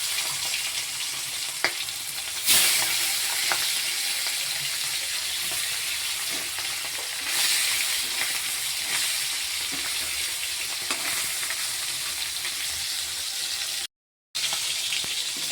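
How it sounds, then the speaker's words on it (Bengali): Tangra fish frying in a kadai, a steady close sizzle running throughout with brief louder bursts as pieces are stirred, cutting out for a moment near the end. "আর বাকি মাছগুলো আমি এখন ভেজে নেব।"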